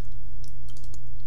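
Quick, light clicks of typing on a computer keyboard, a few keystrokes over a moment, faint above a steady low electrical hum.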